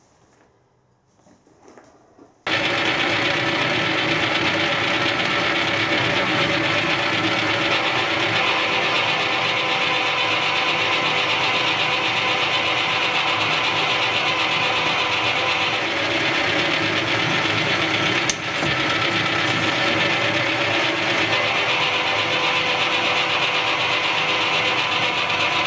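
A reamer cuts through a metal workpiece on a machine, starting abruptly after a quiet moment and then holding a loud, steady mechanical whir with a single sharp click partway through, with no voices.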